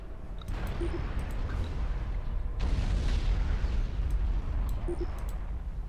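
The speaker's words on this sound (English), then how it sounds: "And I'm pounding with artillery." Artillery bombardment in the real-time strategy game Supreme Commander 2 rumbles as a continuous heavy barrage of low booms and blasts, dense and loud, with small interface blips over the top and no speech.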